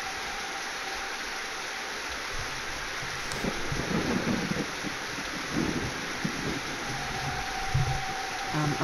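A thunderstorm rumbles inside a horror-themed video game, with low, uneven thunder rolling in bursts over a steady backdrop of rain and wind, growing slightly louder toward the end.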